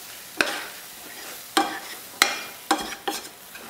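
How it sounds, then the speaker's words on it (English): Ground spices toasting in leftover butter in a pan, marked by five sharp, close stirring scrapes at irregular intervals over a low hiss, no voices. "We wanna kind of toast the spices in what's left of that butter that's in there"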